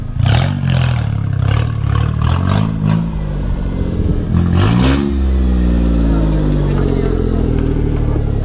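A Ford Mustang engine revs close and loud, rising and falling in pitch over a steady rumble, with clattering and a person speaking over it partway through.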